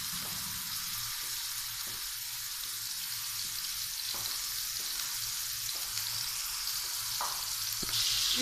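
Onions fry in two or three spoons of oil, a steady hissing sizzle close by with faint soft scrapes of stirring, swelling slightly louder at the end.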